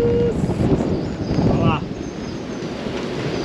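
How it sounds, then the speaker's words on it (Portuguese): Strong wind buffeting the microphone aboard a sailboat at sea, a loud continuous roar and rush that stays steady, with people talking over it. "olha o vento"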